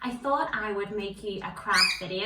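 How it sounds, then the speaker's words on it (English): A pet bird squawks with bright, high chirps in the background at a small indoor home craft setup, heard beneath a woman's continuous speech. "you can hear my bird in the background"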